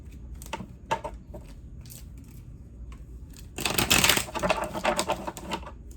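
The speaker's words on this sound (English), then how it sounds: "Trying to get a good shuffle." Tarot cards being shuffled, first with scattered soft taps and clicks, then a louder, denser burst of riffling close up in the second half.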